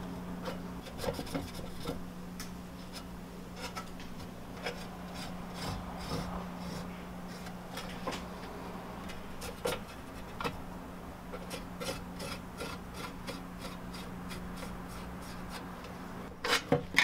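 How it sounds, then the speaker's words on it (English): Metal snips or a cutting tool notching a thin tin soup can for a rocket stove, giving steady rasping, scraping strokes close by, with a few sharper clicks near the end. "I'm gonna cut in some notches here into the can to allow the floor to slide in."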